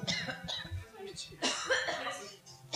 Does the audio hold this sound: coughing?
yes